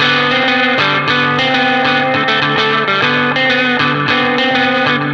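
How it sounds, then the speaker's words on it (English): An electric guitar plays through a color-box style drive pedal into an amp, giving a thick, saturated distorted tone with sustained chords and steady loud strumming, close and continuous with no voice. "You can really hear that change. It's very interesting. It's a total color box drive."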